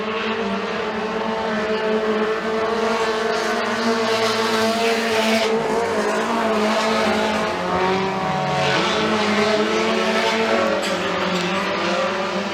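Mini stock race cars roar around a short oval at Freedom Motorsports Park during an evening heat race, engines droning loud and continuous with shifting pitch as the pack passes, with occasional tire scrub.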